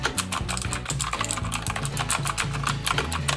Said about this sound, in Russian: Клавиатура механическая.